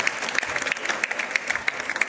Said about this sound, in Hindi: तो एक बार सर के लिए भी तालियां।